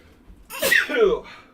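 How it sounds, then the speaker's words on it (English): A single close, loud human sneeze bursts out sharply and fades quickly, heard alone in a quiet room. "Sorry, I'm like sneezing."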